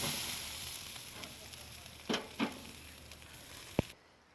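Fish frying in hot spicy oil, a steady close sizzle with a couple of louder pops and a sharp crackle near the end.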